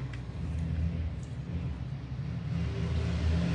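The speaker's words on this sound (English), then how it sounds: "And loud truck outside." A loud truck passes outside, heard from indoors as a low, muffled engine rumble that holds steady and swells slightly toward the end, alone without voices.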